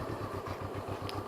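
Motorcycle engine idling unevenly and close by on the verge of stalling, with a steady pulsing low throb and light mechanical clatter, alone without talk.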